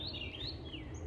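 Birds chirp and tweet faintly in the distance, with high, thin calls over a low background rumble.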